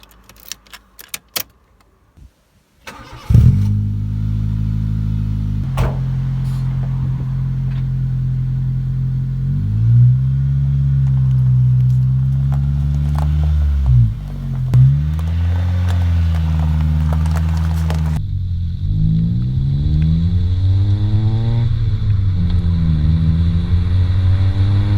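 Engine of a 2005 Honda Civic Sport EP2 starting and then revving repeatedly, loud and close, with pitch rising and falling in several long sweeps and no talk over it.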